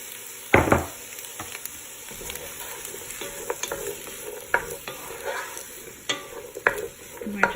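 Garlic and onions sautéing in a pan, a soft steady sizzle punctuated by close utensil scrapes and taps as the pieces are stirred, with one sharper knock early on.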